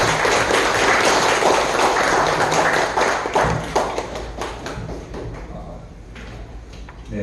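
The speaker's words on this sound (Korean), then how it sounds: "다시 한번 뜨거운 박수 보내주시기 바랍니다" Audience applause at a founding general meeting of a memorial society held at Seodaemun Prison History Hall, a dense, loud clatter of many hands that slowly thins and fades over several seconds.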